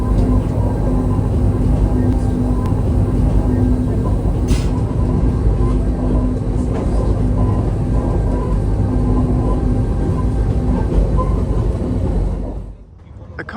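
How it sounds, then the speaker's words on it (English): A steady, loud mechanical rumble of a rack railway train climbing to Christ the Redeemer in Rio de Janeiro, droning continuously with a faint hum, fading out abruptly at the end. "There's the train that goes up the hill to see the Christ the Redeemer."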